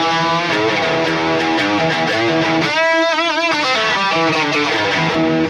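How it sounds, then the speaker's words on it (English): Clean Stratocaster electric guitar played alone with no effects, a loud, steady run of picked notes and chords that ring continuously with bright harmonics. "this Strat sounds like this by itself"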